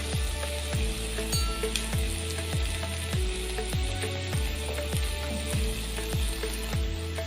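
Spices with salt, turmeric and Kashmiri chilli powder fry in a pan, a loud constant sizzle broken by regular scraping stirs roughly every half second.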